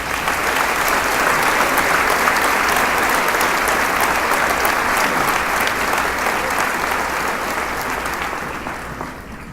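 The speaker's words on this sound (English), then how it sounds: "A round of applause for these students." A large crowd at a 2018 high school commencement ceremony applauds scholarship recipients with loud, continuous clapping that fills the space and tapers slightly toward the end.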